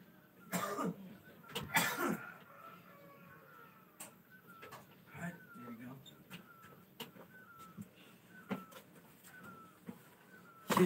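A person coughing with a harsh, dry cough, two loud bursts near the start followed by quieter throat sounds, with soft voices and bird coos in the background.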